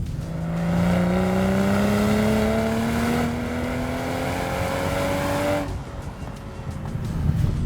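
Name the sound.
car sports exhaust engine sound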